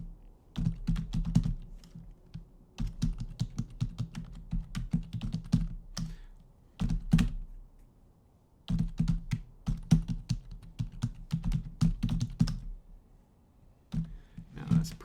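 Fast bursts of keystrokes on a computer keyboard, close and clicky, coming in runs separated by short pauses, with one longer gap near the middle and a few isolated clacks after it.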